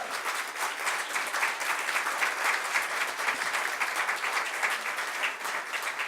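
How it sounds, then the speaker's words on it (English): An audience at a forum on early childhood investment applauds a full-day kindergarten proposal, a steady, continuous roomful of clapping hands heard from a distance with no voices on top. "That applause that I just heard needs to be heard and conquered."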